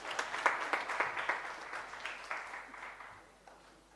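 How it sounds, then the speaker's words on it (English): A conference audience at a panel discussion applauds, a brief burst of clapping that swells quickly and then fades away over a few seconds, moderately distant. "Let's give him another round of applause"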